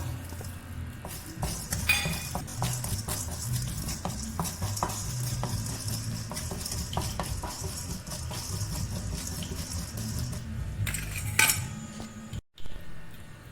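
Peppercorns being lightly heated and stirred in a pan for a Kerala-style sardine fry masala, with a steady low sizzle, scraping spoon strokes and occasional metallic clinks close by, no talking.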